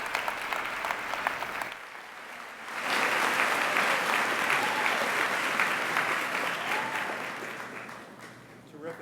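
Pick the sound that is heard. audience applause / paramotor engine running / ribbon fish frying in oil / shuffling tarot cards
audience applause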